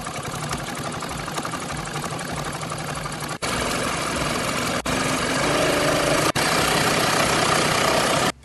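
Sewing machine running continuously to stitch small fabric scraps together with a quarter-inch seam and 1.6 stitch length, a steady mechanical whir with brief pauses, close and loud.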